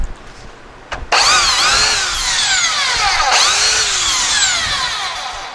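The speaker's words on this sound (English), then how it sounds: "even with a belt sander." A belt sander runs on wood held on a non-slip sanding pad, its loud whining motor starting abruptly and sweeping up and down in pitch as it works across the surface.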